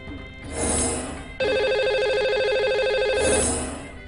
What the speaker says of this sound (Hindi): और अब चलिए लगाते हैं कॉल उनको जो बन चुके हैं आज के हमारे लकी कॉलर।